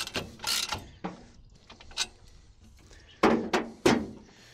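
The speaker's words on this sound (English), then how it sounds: "now is the time when you can tighten down your striker" A striker on a TruXedo Deuce tonneau cover being tightened down, heard as scattered mechanical clicks and ratcheting thunks, with a cluster of louder sharp clunks near the end, close and alone.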